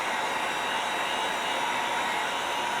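A hair dryer blows steadily and close to dry paint on model kit parts, a constant airy whoosh with no breaks.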